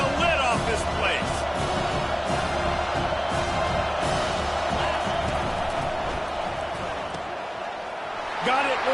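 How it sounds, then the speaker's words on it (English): A stadium crowd roars steadily in the NCAA 25 college football video game during an Ohio State versus Miami matchup, a loud, dense wall of noise that rises and falls slightly while a commentator talks over it. "this crowd is tearing the lid off this place"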